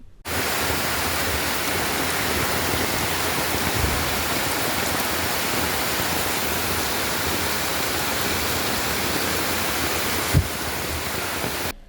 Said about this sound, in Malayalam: എസ്റ്റേറ്റിൽ നിന്നുള്ള വെള്ളം കുത്തിയൊഴുകിയത്